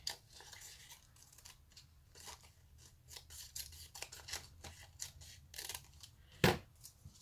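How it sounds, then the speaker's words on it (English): Scissors snip steadily through book pages in a quiet, close series of short crisp cuts, ending with one louder sharp snip near the end, with no speech. "this needs to be cut 1 inch"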